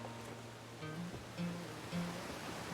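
A waterfall in the video game Outer Wilds roars as a constant wash of broadband rushing water, faint and steady, with a few soft tonal game sounds over it.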